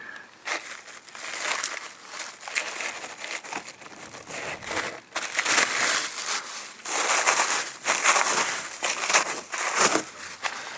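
An old roof wasps' nest, made of papery material, is pulled apart by hand. It gives dense, continuous crackling and crinkling close by, in uneven bursts.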